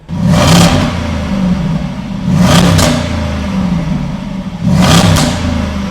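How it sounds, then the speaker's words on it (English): A Jaguar XK in dynamic mode revs in the showroom, three sharp throttle blips roughly two seconds apart, each rising and falling over a steady idle rumble, loud and close. "we'll check out how the car sounds"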